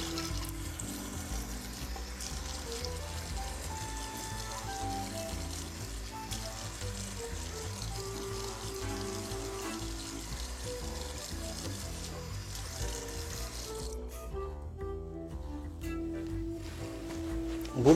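Cold tap water runs steadily as a man rinses his face after a shave for sensitive skin, a constant close hiss of flowing water with no one speaking.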